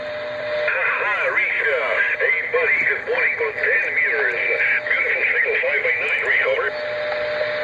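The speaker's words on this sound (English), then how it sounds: "There it is on the Ranger. Hear all that static in the Ranger?" A Ranger radio tuned to the 10-meter amateur band gives off a steady hiss of static, with a distant, warbling voice transmission coming through the noise floor.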